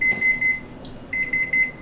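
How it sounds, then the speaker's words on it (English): Kitchen oven timer beeping while ginger snap cookies bake, a loud close run of steady high electronic beeps in two bursts with a short pause between. "Let's set the timer, 15, and we're going to come back and check."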